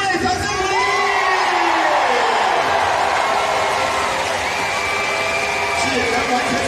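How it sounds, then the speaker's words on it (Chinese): Stadium crowd at a Chinese Professional Baseball League game cheers, whoops and applauds loudly and steadily after a pitcher's no-hitter, a dense roar with shouts rising above it throughout. "掌声鼓励！"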